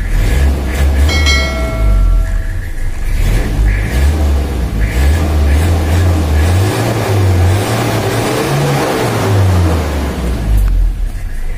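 Toyota Kijang diesel engine running rough and short on power, revving up and down in repeated surges with a loud, steady drone throughout.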